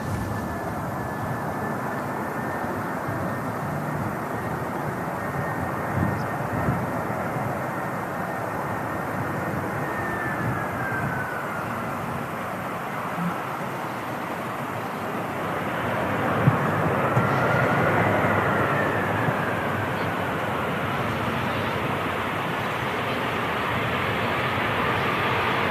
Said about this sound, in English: Another EasyJet coming in.